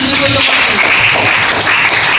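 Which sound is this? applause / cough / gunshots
applause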